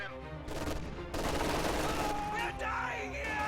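Rapid bursts of light machine gun and rifle fire in a World War II strategy game, grenadiers cutting down conscripts, crackling in dense overlapping volleys with a faint shout near the end.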